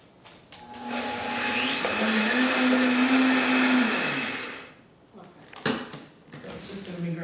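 A kitchen blender whirs loudly for about four seconds as it grinds dried natural coconut for Indian coconut fudge, then stops; a voice speaks before and after.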